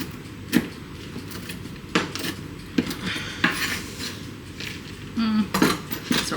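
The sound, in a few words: rough chopping pecans with a knife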